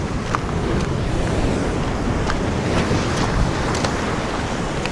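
Sea waves break continuously on a rocky shore where seafood is gathered, a steady loud wash of surf with gusty wind noise against the microphone, no voices.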